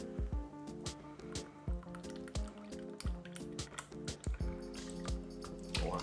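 Coconut milk poured into a sweet potato pudding mix, with wet squishing and dripping splashes coming in uneven bursts, close and moderately loud over background music.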